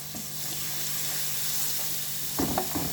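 Garlic frying in about two ladles of oil, with a steady broadband sizzle throughout and a brief burst of louder crackling and stirring near the end.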